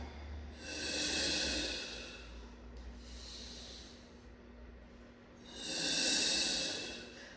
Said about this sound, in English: Inhale down, exhale up.